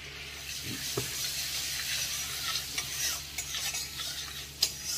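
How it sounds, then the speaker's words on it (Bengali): Butter and a bay leaf frying in a cooking pot, giving a steady soft sizzle while a spoon stirs and scrapes with occasional sharper knocks against the pot. "এটা গরম হয়ে গেছে মাখনটা। এটা একটু ভেজে নিই।"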